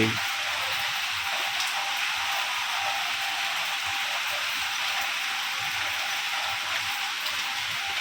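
Steady rain falls in an even, soft hiss with no distinct drops or pauses, a constant wash of sound heard alone at moderate distance.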